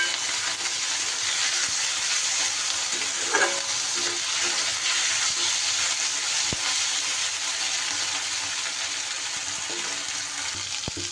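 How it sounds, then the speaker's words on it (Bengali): Ginger paste and tomato fry in oil while being stirred for a fish curry with drumstick stalks, a constant hiss-like sizzle with small spatula scrapes and taps, no voices. "আদা বাটাটা দিয়ে একটু নাড়াচাড়া করে নেব।"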